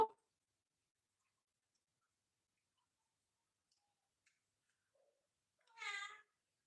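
A single short cat meow rises near the end, close and clear after a long near-silent stretch with a couple of faint clicks.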